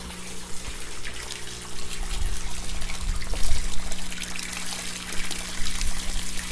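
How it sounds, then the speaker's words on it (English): A 500 gallon per hour pump runs in an aquaponics stock tank, water trickling and gushing steadily with a constant low hum underneath, near and fairly loud, with no talking. "this is just a 500 gallon per hour pump that's running"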